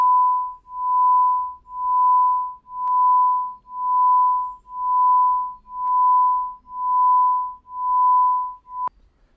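A steady mid-pitched carrier tone whose loudness swells and fades in a slow, regular pulse, about nine smooth beats, with a few faint clicks, heard alone and clearly with no voices.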